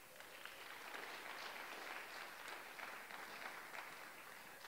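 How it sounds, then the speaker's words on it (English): Faint, steady applause from a forum panel audience for event sponsors, an even wash of many hands clapping at a distance, continuous and unbroken. "let's give them a round of applause"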